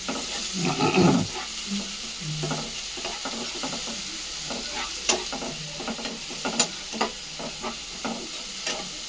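Tomato, rice and Manchurian ingredients fry and get stirred in a pan, a steady sizzle broken by scraping spatula strokes and a few sharper clicks, heard close with no talking.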